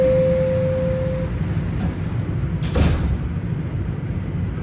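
Under a steady train hum on TTC Line 1 subway in Toronto, a sustained warning tone sounds, then the subway doors slide shut with a soft thump.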